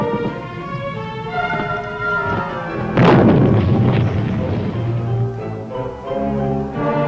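Delta Company's 1st Platoon fires in battle, one heavy booming blast landing mid-way amid rumbling combat noise and lower background sounds.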